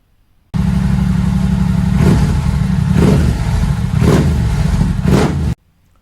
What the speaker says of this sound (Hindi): तो ये है R7 की एग्जॉस्ट साउंड।